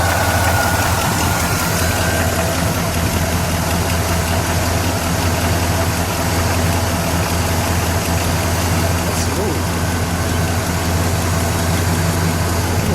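A 1969 Buick Electra 225 with its 430 cubic-inch V8 idles steadily, a deep continuous low rumble with a smooth, even beat that holds unchanged throughout, close by and without talk.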